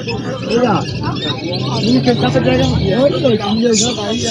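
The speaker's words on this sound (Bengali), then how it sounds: "একদম খাঁচার ভেতরে ভর্তি পাখি" Many caged birds, including lovebirds and budgerigars, coo and chirp together at Galiff Street pet market in Kolkata, a crowded, noisy spot, with the murmur of voices in the background.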